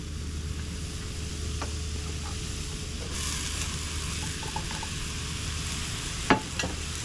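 Pork and crocodile mince fries in a pan with vegetables added, giving a steady soft sizzle with occasional stirring scrapes and a sharper clatter near the end, fairly quiet and without talk.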